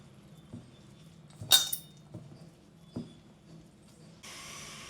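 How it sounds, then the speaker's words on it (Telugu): A spoon clinks against a steel bowl while curry leaves, soaked sago and moong dal are mixed into chekkalu dough, a few scattered taps and scrapes in a quiet kitchen, ending with a soft steady hiss. "ఇప్పుడు మొత్తం కలిసేలా కలుపుకోవాలండి"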